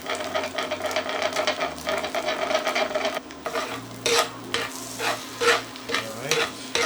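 Eggs cook in a pan for Jamaican fried rice while being stirred, a busy sizzle broken by repeated scraping and clattering strokes of a utensil, close and loud, with bursts of stirring in the second half.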